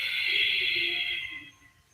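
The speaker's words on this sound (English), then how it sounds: "Air comes out the nose. You notice there's a little more of a sound happening through the throat." A long breathy yoga exhale through the nose with a soft throat constriction, close and airy, fading out after about a second and a half.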